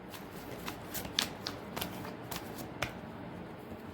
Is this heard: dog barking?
no